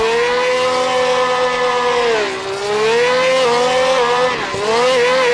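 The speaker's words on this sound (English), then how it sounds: "Little victory lap donut." Niki Lauda's Ferrari 312T Formula 1 car spins a victory-lap donut, its engine note holding a high, wavering whine that dips and surges while the tires squeal steadily, close and loud with no talk.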